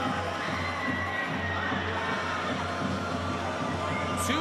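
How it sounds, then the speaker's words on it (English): Hockey fans in an arena at a PHL preliminary final between Adelaide Avalanche and Brisbane Rampage cheer after a goal, a steady roar of crowd noise with shouts throughout. "and the crowd's on their feet."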